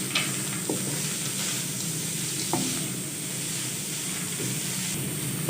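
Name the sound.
frying corn kernels and vegetables in a pan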